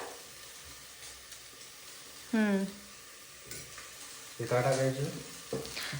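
Onion frying in a pan for Marathi misal, a soft steady sizzle close by running under a woman's and a man's speech.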